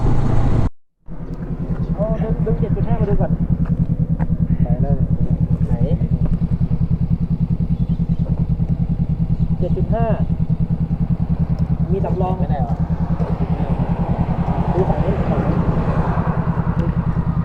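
Motorcycle engine running steadily as the rider slows down on a northern Thailand road trip, a continuous low drone with steady rumble after a brief dropout near the start, with someone talking over it throughout.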